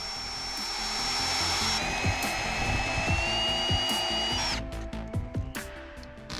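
A power drill with a 6mm SDS bit whines loudly at a steady, high pitch drilling into masonry, then cuts off into rattling and clattering as the bit stops.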